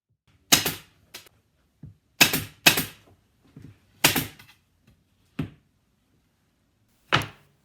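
Staple gun firing staples through fabric into a sound panel frame, a series of sharp, separate snapping clacks with short irregular pauses between them, close and distinct with no talking.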